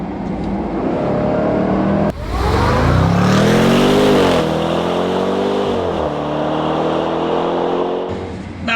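A Jaguar F-Pace SVR's tuned 5-litre V8 engine revs hard and accelerates, its loud roar climbing in pitch through the gears with a brief drop at each shift, heard close up from inside the vehicle with no talking.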